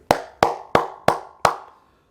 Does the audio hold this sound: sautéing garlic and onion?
no